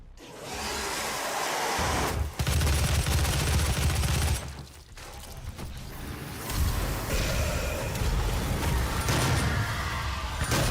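Rapid rocket and weapon fire in a modern DOOM game during a speedrun, loud, dense bursts of blasts and explosions that keep going with short gaps.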